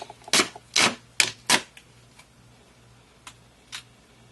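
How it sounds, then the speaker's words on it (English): Black duct tape pulled and wrapped around the hilt of a PVC-core LARP sword, four loud sharp tearing rips in quick succession followed by a few fainter crackles and snaps in a quiet room. "So grab my black duct tape here."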